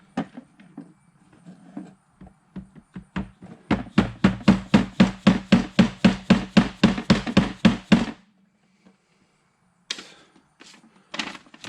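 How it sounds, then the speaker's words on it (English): Small pieces are hammered into holes on a Givi brake light kit for a 2019 Yamaha MT-07: a few scattered taps, then a fast run of about twenty sharp, close, evenly spaced blows, followed by a few last knocks. "And it wants you to hammer these in."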